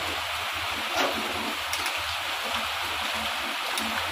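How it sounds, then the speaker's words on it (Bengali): Hot water poured into a pot of chicken kosha curry makes a steady, close rushing splash that runs evenly throughout, with no talking over it. "তো এবার আমি দিয়ে দিলাম গরম জল।"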